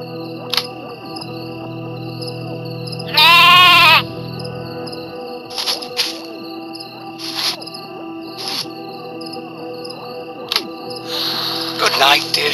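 Sheep bleat once, a loud wavering call, in a calm mountain-farm bedtime-story scene at night, with steady cricket chirps and scattered faint animal sounds underneath.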